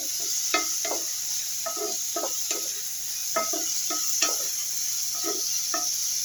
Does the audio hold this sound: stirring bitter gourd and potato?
yes